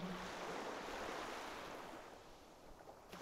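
A steady wash of sea surf hisses close by and gradually eases off, unbroken by any talk.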